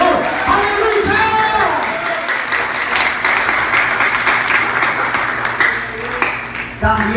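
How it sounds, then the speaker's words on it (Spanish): Loud, sustained applause from a large crowd at an evangelical church service, steady clapping filling the room with a few cheers mixed in. "den un aplauso fuerte al Señor"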